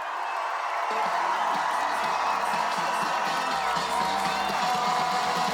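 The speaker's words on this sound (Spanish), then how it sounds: "¡Fuerte el aplauso para recibir al próximo presidente de la República, Álvaro Delgado!" A crowd applauds and cheers a Uruguayan presidential candidate, Álvaro Delgado, at an election-night rally, making a steady, loud roar of massed clapping and whoops that holds throughout without letting up.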